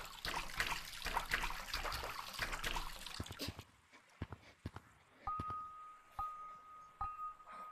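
River water flows through flooded caves in Gorilla Tag, a trickling, splashing rush heard clearly for about three seconds before it drops away to faint, scattered taps and clicks.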